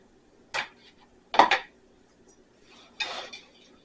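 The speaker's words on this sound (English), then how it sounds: "We'll go ahead and use a whisk on this part." A whisk working milk into kugel batter in a bowl, heard as three short, separate metallic clanks about a second apart, close and clear against a quiet background.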